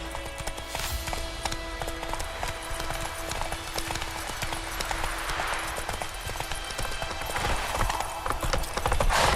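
Roach the horse gallops in Witcher 3, a rapid, steady clip-clop of hooves over a dense game soundscape with constant background tones.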